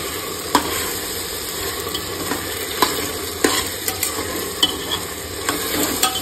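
A ginger, garlic and coriander paste is stirred in a hot pan for masala rice, with a steady sizzle under repeated scraping strokes of the spoon at an irregular rhythm, close and moderately loud.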